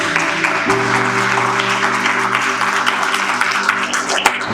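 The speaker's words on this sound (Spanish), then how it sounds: "démosle un aplauso al Señor" A church congregation applauds during a sermon, a steady, full round of clapping from a crowd filling the room, carrying through to the end.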